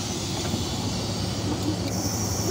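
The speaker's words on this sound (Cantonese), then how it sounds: "呢一個係電車。" A Hong Kong tram passes close by with a steady, loud rolling rumble and hum, the low mechanical drone holding evenly throughout with no voices.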